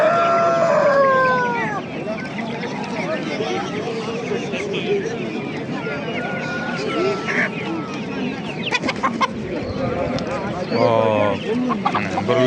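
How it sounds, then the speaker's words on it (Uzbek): Broiler chickens cluck and call at an outdoor poultry market, a dense flock of fowl noise running steadily throughout, with market chatter and people talking mixed in. "Mana brullar jo'jalar"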